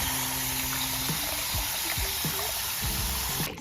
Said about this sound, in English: So I might add a little bit more water.